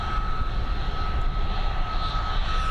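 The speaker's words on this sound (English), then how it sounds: "there she is, the Ryanair flight heading over to Nuremberg, that Boeing 737" A Ryanair Boeing 737 jet airliner heads out from Dublin Airport, its engines roaring loud and close in a continuous drone with a sustained high whine on top.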